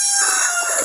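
A brief, close burst of chickens, with a rooster crowing among hens, the call strained and rising for under a second with no talk over it.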